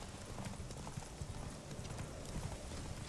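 Horse hooves galloping in a horse race in The Witcher 3, a steady fast clip-clop rhythm close up over dense, noisy game ambience throughout.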